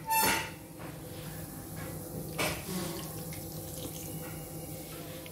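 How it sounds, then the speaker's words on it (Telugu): Water is poured from a large glass into a cooking pot of drumstick curry with tomatoes and raw mango, giving a short splashing gush at the start and another brief splash midway over a quiet kitchen background. "ఇప్పుడు ఒక పెద్ద గ్లాసు నీళ్ళు వేసేసుకోవాలి"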